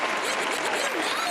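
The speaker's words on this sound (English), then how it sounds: "Give it up. Round of applause." Audience applause greets a round-of-applause call on a gaming news podcast episode, a short steady wash of clapping heard close and continuous with no talk over it.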